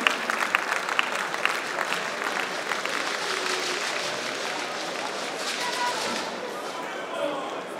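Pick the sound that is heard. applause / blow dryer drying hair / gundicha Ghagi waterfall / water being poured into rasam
applause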